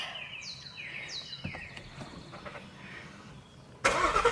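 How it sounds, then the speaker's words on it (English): A 2017 Mustang fitted with a Corsa Extreme exhaust starts up. Birds chirp faintly in a quiet outdoor setting, then the engine bursts to life with a sudden loud, close roar in the final half second. "Time to hear it. First impressions of the exhaust."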